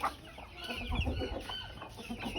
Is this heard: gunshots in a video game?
no